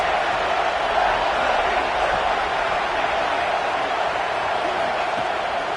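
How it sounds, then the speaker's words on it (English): A college football video game crowd roars steadily in a stadium around a big third-down play in the red zone, a broad, continuous wash of cheering that stays level throughout. "this crowd is getting behind this defense"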